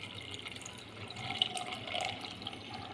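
Water trickles from a steel glass onto peas in a home kitchen, a soft splashing pour with a few brief drips, heard close and fairly quiet over a faint background hum.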